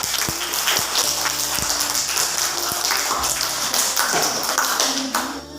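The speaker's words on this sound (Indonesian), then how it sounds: "mari kita beri aplaus dulu kepada kelompok 4" Sustained applause from a classroom audience greets a presenting student group during a teacher-training session, a dense, even wash of many hands clapping throughout, close and fairly loud, with a faint voice underneath.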